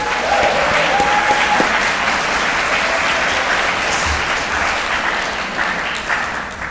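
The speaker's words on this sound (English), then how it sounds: "Let's give them a round of applause." Sustained audience applause fills a university convocation hall after a pipe band's processional, dense and even from start to finish with no voices on top.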